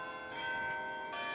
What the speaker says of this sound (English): Our bells are made of bronze.